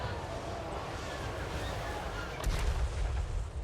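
Hell cannon artillery fire in a Total War: Warhammer 3 battle: a single heavy boom lands near the end over a steady roar of battlefield noise.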